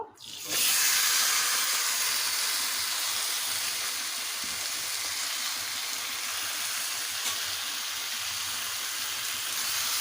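A loud burst of hissing sizzle as marinated mutton hits a hot wok, then a steady, intense frying hiss that continues throughout.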